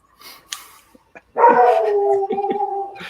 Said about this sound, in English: Whose dog was that just howling?